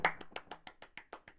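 Hand clapping: ten sharp, evenly spaced claps in a steady rhythm, close and fairly quiet, with no other sound between them.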